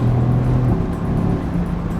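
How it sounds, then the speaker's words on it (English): Mercedes-AMG GT C with a handcrafted 4-liter twin-turbo engine, a steady low engine drone heard from inside the car, loud and continuous, with slight shifts in pitch as the revs change. "the only thing I need to listen to is that beautiful engine"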